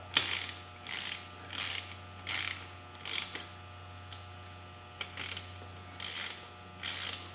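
An inch-pound torque wrench ratchets in short bursts while tightening bolts on beadlock rims for a 2003 Polaris Ranger 6x6, about nine crisp clicking runs separated by brief pauses, close up over a faint steady hum.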